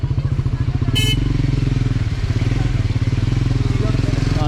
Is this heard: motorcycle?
yes